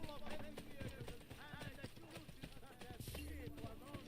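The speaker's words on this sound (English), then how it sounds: "There's my horse. Thought I heard it." Horse hooves clip-clopping in Assassin's Creed Brotherhood, faint rhythmic steps heard under someone talking throughout.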